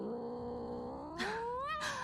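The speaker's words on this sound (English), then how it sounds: "Oh, look who's back. It's a cat." A hostile cat in the Batman Telltale video game lets out a rising, drawn-out caterwauling growl that swells into a harsh yowl, close and loud with no talk over it.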